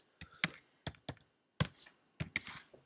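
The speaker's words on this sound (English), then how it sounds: "we can type into it" Keys on a computer keyboard are typed in short bursts of a few quick, close clicks separated by brief pauses, in a quiet room.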